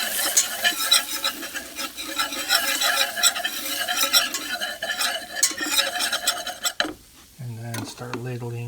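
Quick, rhythmic scraping and clinking of a whisk stirring flour into oil and butter in a pan for gravy, continuous and close, then a short pause and a voice speaking.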